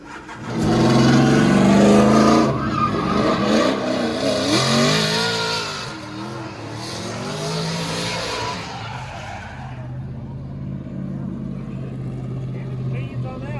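A car engine revs hard and loud, pitch climbing as it accelerates, then eases to a steadier lower drone; a voice briefly talks over it.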